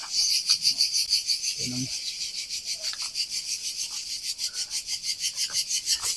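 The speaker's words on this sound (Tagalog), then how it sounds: "Naririnig nyo ba yung kuliglig?" Crickets chirp at night in Kassiopi, Corfu, a steady rapidly pulsing trill that runs throughout, with a brief low murmur of a voice partway through.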